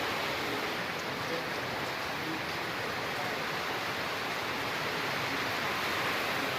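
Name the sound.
strong wind and rain during a storm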